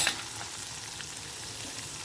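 Ginger and garlic sautéing in a pan for a soyabean dal, giving a steady, close frying sizzle with no talk over it.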